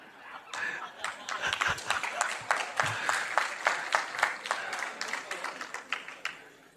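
An audience claps at a motivational talk by Gyanvatsal Swami, a dense burst of applause that builds and continues for several seconds, with a few voices and chuckles mixed in.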